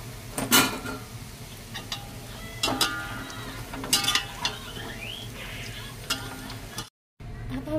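Chicken tikka fries in a pan with a steady sizzle, broken by repeated clinks and scrapes of a spoon stirring against the metal, then a brief cut to silence before the frying resumes.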